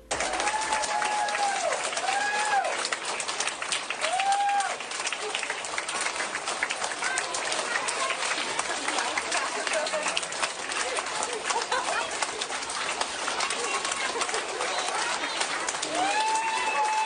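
A dense audience applauds a Cuban woman, steady broadband clapping and crowd noise filling the whole stretch at a constant loud level, with brief whistles or cheers rising over it.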